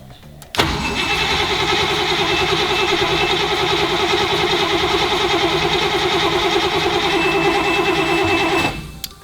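A Leyland P76 V8 pulled from a shed cranks and catches, then settles into a steady, loud running rumble close by for several seconds before cutting off.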